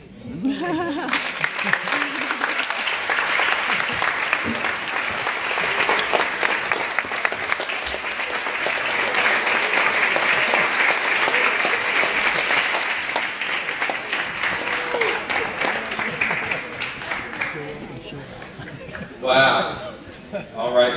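Audience applause for Dr. Na'im Akbar at Bethune-Cookman University, a steady, dense crowd clapping sustained for most of the stretch before tapering near the end, with some voices mixed in.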